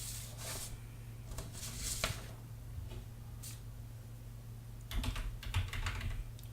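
Code typed on a computer keyboard: quiet, steady clicking of keys in quick bursts, with a denser flurry near the end, close and soft with no talking.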